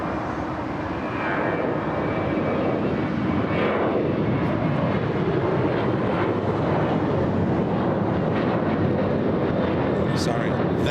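An airliner on Flight 1374 to Laredo at LAX, its engines a loud, sustained roar with a steady rumble throughout, while people talk over it.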